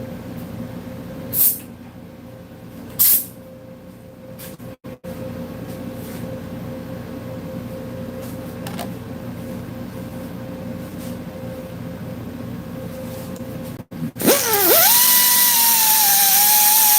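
A plasma cutter is used on half-inch thick steel: after a long low hum with a couple of sharp clicks, a loud hissing rush bursts in near the end with a sliding, rising whine.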